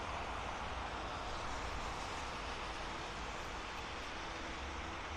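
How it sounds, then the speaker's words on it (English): An Air Canada airliner jet at Vancouver International Airport gives off a steady, broad roar that holds at an even level throughout, moderately loud and without voices. "So here comes this Air Canada."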